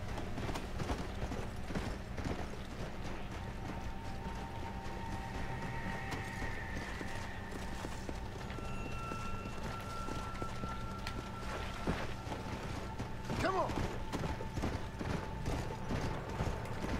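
Horse hooves clip-clopping at a steady gallop in Red Dead Redemption: Undead Nightmare, faint and continuous for many seconds, with a few mechanical whines and rattles in the background and no speech.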